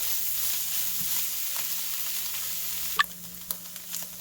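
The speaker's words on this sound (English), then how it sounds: "You want to saute this for about 5 minutes or so." Pickled sour bamboo shoots sautéing in a pan over medium heat, with a soft steady sizzle throughout and a few sharp stirring clinks and scrapes near the end.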